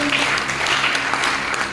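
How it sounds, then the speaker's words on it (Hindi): Loud, dense applause from a meeting audience greeting a speaker, continuous clapping with no break across the short stretch. "निजामा सर के लिए जोरदार ताली होनी चाहिए"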